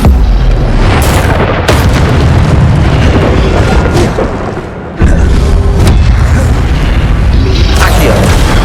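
Incendio fire spells go off in Hogwarts Legacy on PS5, a loud, dense roar of fiery blasts and booms that barely lets up, with one brief dip partway through.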